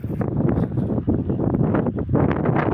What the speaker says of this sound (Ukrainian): У нас дуже великий вітер.